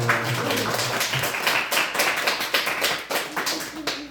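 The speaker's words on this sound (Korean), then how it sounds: "우리 그렇게 역사하신 하나님께 영광의 박수 올려드립니다" Korean church congregation applauding at a New Year Sunday worship service, a few seconds of scattered hand claps that build and trail off, with a faint voice underneath.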